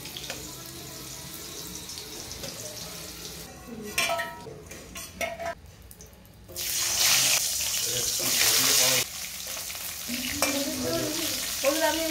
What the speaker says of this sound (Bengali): বড়িগুলো একটু ভেজে তুলে নেবো